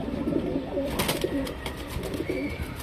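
A pigeon for sale coos softly several times in a row, close by in a quiet setting, with faint chirps and rustling around it.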